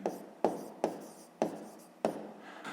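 Pen writing on paper during a sixth-grade maths exercise, with a rhythm of five sharp touch-down taps, each followed by brief scratchy strokes, close and quiet with no talk.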